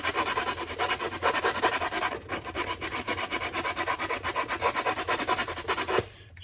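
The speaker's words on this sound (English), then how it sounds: "do a quick video of myself sanding the inner part of the eye socket here" Sandpaper rolled up and rubbed inside the eye socket of a Wookiee mask, a steady rapid rasping scrape in close, even strokes with a brief pause midway and a stop near the end.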